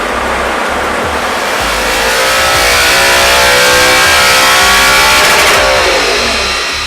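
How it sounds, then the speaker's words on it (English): An Audi R8 with a Capristo exhaust revving hard on a dyno, a loud sustained engine roar that climbs steadily in pitch, close and alone. "our now modified R8 goes back onto the dyno"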